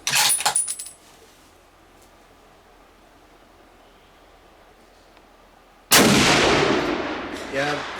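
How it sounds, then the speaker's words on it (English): A 30-06 rifle fitted with an old Weaver steel scope fires at a range, with a loud sharp report at the start, quiet outdoor ambience, then another loud blast near the end. "So we fired a couple of rounds there"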